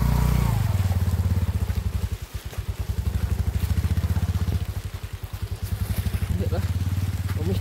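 A motorcycle labours up a rough offroad village track, its engine chugging loudly and close in a pulsing rhythm with brief dips as the throttle shifts.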